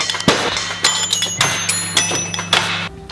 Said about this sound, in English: I made use of the pots and the pans and the lights above me to create a simple melodic tune